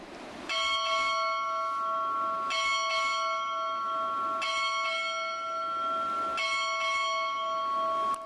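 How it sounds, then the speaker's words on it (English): A ship's bell rings out eight bells at a Naval ROTC boot camp graduation ceremony, struck in four evenly spaced pairs, each strike loud and clear with a long, bright, ringing decay. "strike 8 bells"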